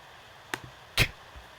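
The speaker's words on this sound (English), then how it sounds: "So new zone for my quiet snare sample." A quiet snare drum sample sounds twice, a soft short hit followed about half a second later by a slightly louder crisp snap, each dying away quickly into near silence.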